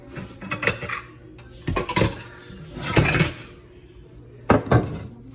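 Lamb chops in marinade being set into a glass pan, with several sharp clinks and knocks of glass and utensils in separate bursts over a low background, close and fairly loud.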